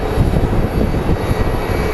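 An airplane's engines roar loud and close in a steady, broadband rumble as it passes at Phoenix Sky Harbor International Airport, where military jets also fly through; no voices.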